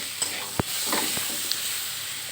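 Tomatoes and a little salt sauté in a pan for an egg and potato curry, a steady close sizzle broken by a few quick stirring scrapes, with no voices.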